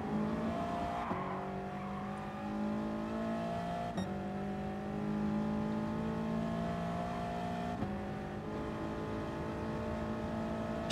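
In Gran Turismo Sport, a Subaru race car in a racing game closes in, its engine droning with rising revs and gear changes roughly every few seconds, loud and steady with no talk.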